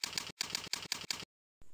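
Keys clatter on a computer keyboard in rapid bursts of dense, mechanical clicking, separated by short pauses, then a final press of the enter key before quiet.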